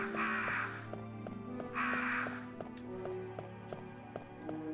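Two harsh crow caws ring out in the Resident Evil: Deadly Silence video game, one at the start and another about a second later, set against a looping musical track with regular percussive taps.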